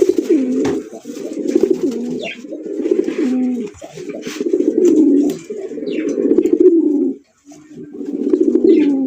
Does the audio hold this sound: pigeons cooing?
yes